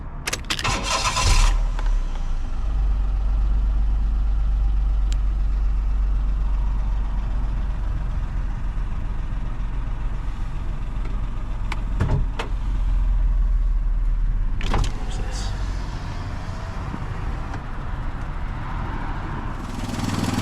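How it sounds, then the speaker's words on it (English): A Daihatsu Cuore L701 engine cranks and catches near the start, then settles into a steady, fairly fast idle that runs close and loud throughout, with a few clicks and knocks. "I was going to comment on this car having an unusually high idle speed"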